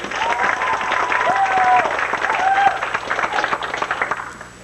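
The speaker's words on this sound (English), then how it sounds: "Give them another round of applause." Applause from the audience at a 1994 small-town talent show, dense clapping that swells and stays strong through most of the stretch before thinning toward the end, with a faint steady tone and a few brief vocal sounds mixed in.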